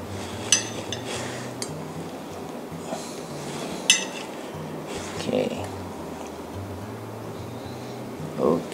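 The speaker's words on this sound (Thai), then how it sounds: "มาเรามาตัก จัดกุ้ง ลงชามเลย" Close, sparse metallic clinks and scrapes as homemade shrimp Provençal is scooped from a pan into a bowl, with someone talking over the spoon knocks.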